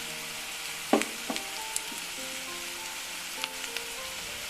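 A dry garlic-ginger paste for green gram usuli fries in a pan with a soft, steady sizzle. A few sharp clinks of a spoon against the pan cut through it, and no one speaks.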